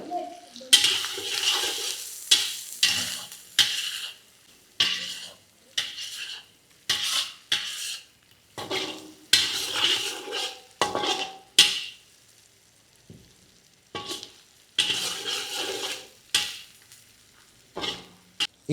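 Mutton liver fry being stirred in a metal pan with chili powder, repeated scraping and clanking strokes of a spatula with brief pauses between, close and loud over a soft background sizzle.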